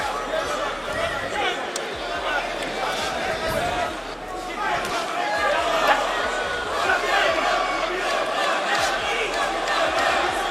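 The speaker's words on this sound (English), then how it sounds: "Crowd wanting to rally Stevenson with chants of Superman" A boxing arena crowd at a Stevenson versus Fonfara fight chanting Superman to rally Stevenson, a broad roaring wall of voices with rhythmic swells, continuous and fairly loud throughout.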